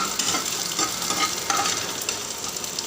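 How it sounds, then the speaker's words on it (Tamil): Ingredients sautéing in a pan for Tamil vatha kuzhambu (tamarind curry) give a steady close sizzle, with soft stirring scrapes repeating throughout and no talking. "கொஞ்சம் நல்லா வதங்கட்டும் ரொம்ப சுருளை வதங்க தேவையில்லை"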